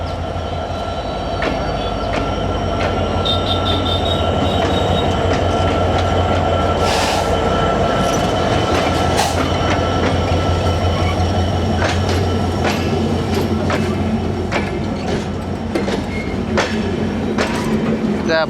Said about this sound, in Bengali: এই যে একটা ট্রেন কিন্তু চলে আসলো, দেখেন।